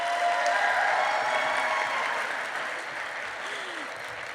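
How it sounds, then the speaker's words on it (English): Audience at a university convocation ceremony applauding the faculty on the platform, dense steady clapping from a large crowd that gradually fades. "Let's give them all a round of applause."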